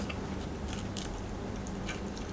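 Close, wet chewing of a mouthful of chicken wings at a Thai meal with hot sauce, soft squishy mastication running steadily with a sharper bite or crunch at the very end, no talking.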